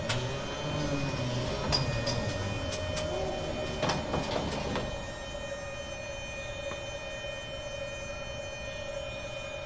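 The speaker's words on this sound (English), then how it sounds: "Power on and retract the gear normally." Landing gear of a Beech 18 retracting under power in a hangar, an electric motor whine with a steady hum, clicks and clunks for about five seconds before the mechanism stops and a quieter hum remains.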